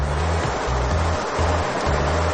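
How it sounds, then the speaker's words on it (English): Steady broadband rushing of fluid being flushed through the flush valve of a STAUFF fluid particle counter, continuous and loud, with a low pulsing hum underneath. "the particle counter will be flushing the fluid until the moisture sensor has been calibrated and it's ready to take the test"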